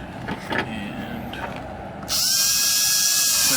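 Small electric motor spinning a gear during break-in on a model build, a steady whirring hum that shifts into a louder, brighter, high-pitched grinding whine partway through, close up with no talking.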